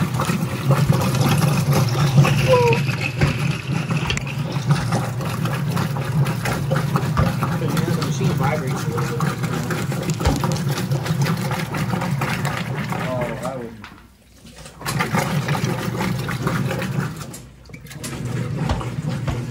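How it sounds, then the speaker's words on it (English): A water pump runs steadily while little basketballs are washed, a constant mid-to-low mechanical hum with sloshing water, briefly dipping twice near the end, with people talking over it. "The pump turns at the same time."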